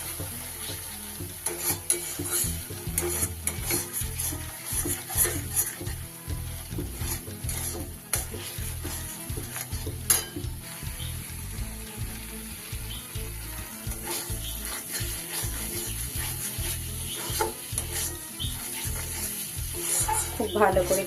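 Masala for vegetarian chana dal dhoka curry sautés in oil, a busy sizzle under constant rhythmic scraping and clattering of a spoon against the pan, loud and close throughout.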